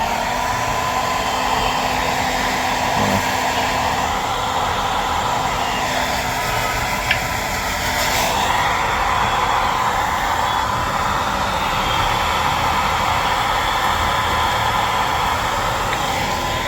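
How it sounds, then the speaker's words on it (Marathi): Steady, loud rushing blow of a hair dryer aimed at an African grey parrot just after its bath at home, continuous and unbroken for the whole stretch with no talking over it. "जरा तिला अजून थोडं ड्रायर मारतो"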